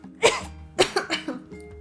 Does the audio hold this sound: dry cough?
yes